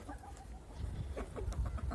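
Hens and a rooster clucking and calling inside a barn, soft overlapping bird calls over steady low rumbling background noise, moderately close.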